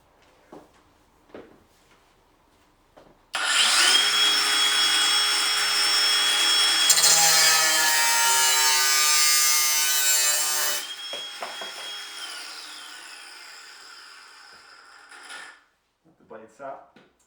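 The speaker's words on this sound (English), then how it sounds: "with the power of the angle grinder, the actual cutting is faster" An angle grinder cutting metal stock, a loud sustained high whine with shifting pitch for about twelve seconds, then the blade winding down, with brief handling noises before and after.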